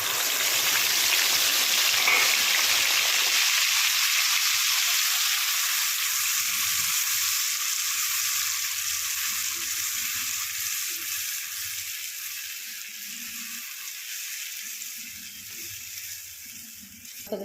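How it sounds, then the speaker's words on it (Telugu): Tomato, onion and garlic paste hits a hot pan with a loud, hissing sizzle that gradually settles into a softer, steady frying sound. "టమాటా, ఉల్లిపాయ, ఎల్లుల్లిపాయ పేస్ట్ చేసాం కదండి, ఈ పేస్ట్ వేసేసుకుందాం."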